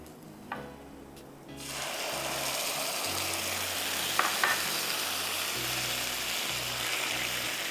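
Garlic frying and browning in a pan gives a steady, even sizzle that rises after a brief quieter start, with a few faint stirring clicks close by and no talking.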